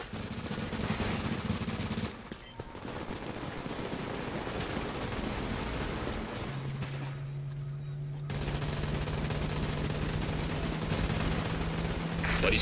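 Sustained automatic gunfire pours onto a fortification in The Division, a dense, continuous rattle of shots with a brief dip near two seconds and a steady hum running underneath.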